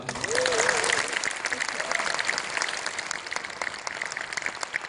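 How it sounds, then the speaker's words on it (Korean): Audience applause at a talk event, dense clapping filling the whole stretch with a voice speaking over the start. "우리 김민기님께 여러분 다시 한번 큰 박수 부탁드리겠습니다"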